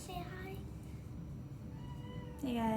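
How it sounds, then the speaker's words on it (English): A pet cat gives a short, rising meow near the end, close by, after a stretch of quiet room noise in a home kitchen during baking. "That is my cat."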